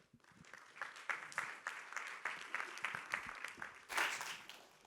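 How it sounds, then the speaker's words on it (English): An audience at a talk on sleep, ageing and longevity applauds to welcome a speaker, a fairly quiet room of scattered clapping that swells briefly toward the end. "Please give a round of applause to Nici Wenderoth."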